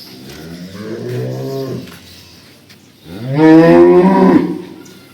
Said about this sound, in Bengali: দেখতে পাচ্ছেন গরুটা খুব একটা ফার্স্ট কালার একটা গরু